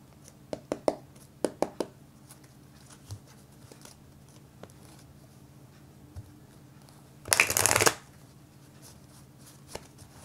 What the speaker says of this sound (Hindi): एक दो बार शफल कर लेते हैं एंड देन वील सी।